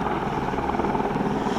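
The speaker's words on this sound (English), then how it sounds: "The helicopter's taking off for the tours." A tour helicopter takes off nearby, its steady loud rotor and engine roar filling the whole stretch without a break.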